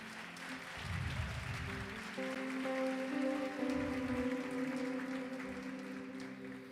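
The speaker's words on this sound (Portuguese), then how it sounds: "Quero convidar você a aplaudir ao Senhor." A church congregation claps for the Lord during a Sunday communion service, soft steady applause rising after a moment, with a sustained organ-like chord entering beneath it.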